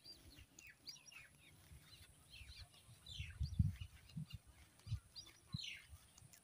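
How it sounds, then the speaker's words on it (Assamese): Birds calling at dusk among trees near Golaghat Jugibil wetland, with scattered high chirps and thin calls, faint and distant, over low rumbling background noise. "চৰাই-চিৰিকটি মাত আপোনালোকে নিশ্চয় শুনিবলৈ পাইছে"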